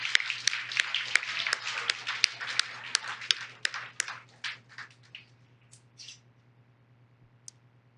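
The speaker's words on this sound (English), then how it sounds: "give yourselves a round of applause" Clapping at a youth swim team's end-of-season banquet, a burst of crisp hand claps from a room of people that thins into scattered last claps and dies away, over a low steady hum.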